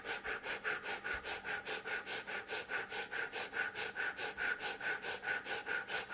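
Rapid, forceful nasal breath-of-fire breathing during a guided energy meditation: steady sharp sniffing pulses at roughly three per second, close and even throughout, with no talking.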